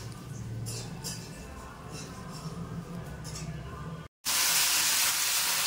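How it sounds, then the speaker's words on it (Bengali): Cauliflower, fish and potatoes fry in a pan in a home kitchen during a Saraswati Puja feast, giving a steady crackling sizzle that briefly cuts out, then returns louder and harsher. "মা এখানে কন্টিনিউ করে যাচ্ছে রান্না বান্না। ফুলকপি ভাজা, এখানে চলছে আঁশ ভাজা, ওখানে হচ্ছে আলু পোস্তর আলু ভাজা"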